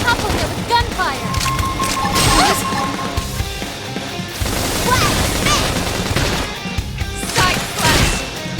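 Rapid bursts of gunfire and heavy impact crashes in the video game Xenoblade Chronicles X, dense and loud throughout, with explosive booms layered over music.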